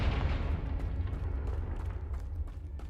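A fire-blast spell explodes in a video game, giving a deep, rumbling boom with a sustained crackling, debris-like roar that rolls on for about three seconds.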